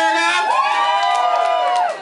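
Comedy club audience cheering and whooping together, a short loud burst of voices lasting about two seconds before tapering off.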